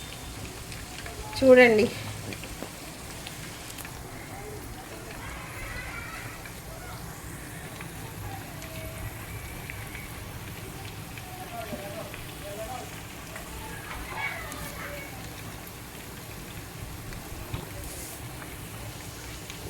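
Chicken leg pieces frying in oil over a medium flame, giving a soft, steady sizzle throughout, with someone speaking briefly near the start.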